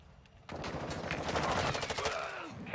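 Loud, sustained automatic gunfire in a video game bursts in after a half-second of near quiet, a rapid stream of shots that continues steadily to the end.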